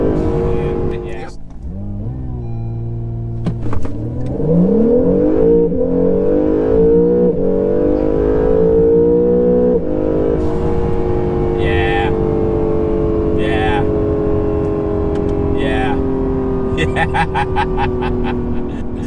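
An Acura NSX accelerates hard, its engine note climbing steeply through the gears in loud close rising sweeps, with short shift breaks and voices reacting in the cabin.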